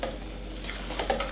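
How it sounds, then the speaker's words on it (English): Corn pudding mixture being stirred in a bowl, a brief soft, wet swishing under a steady background hum. "And we are going to get that stirred up."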